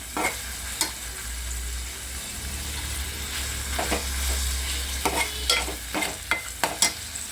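Tomato, onion and garlic fry in a hot pan, giving a steady sizzle close up. A series of sharp scraping stirs quickens toward the end.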